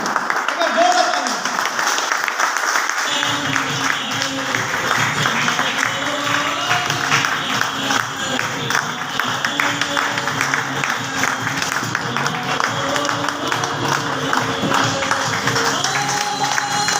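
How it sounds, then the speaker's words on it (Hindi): Audience at a motivational business meeting clapping loudly and continuously in a hall, a dense steady wash of applause with crowd noise and voices mixed in. "एक बार जोरदार तालियां।"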